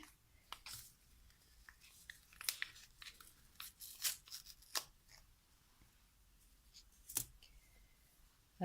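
A small packet is cut open in a kitchen while making mandazi, giving faint, close crinkling, rustling and snipping clicks scattered irregularly over a quiet background.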